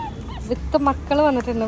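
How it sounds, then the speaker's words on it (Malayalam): A family of dogs whimpers and yips in short, high whining bursts, close by and interleaved with a person talking. "ഒരു ഫാമിലി ഡോഗ്സിനെ ഞാൻ കണ്ടു."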